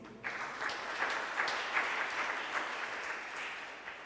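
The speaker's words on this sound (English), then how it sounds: "Another round of applause." Audience applause at a live-streamed gathering honouring Dr. Njeri, a steady wash of clapping from many hands that starts abruptly and carries on evenly throughout, with no voices on top.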